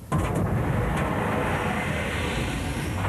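A loud, steady roar of a military jet passing close overhead at an aircraft carrier, a broad rushing rumble that holds without letup.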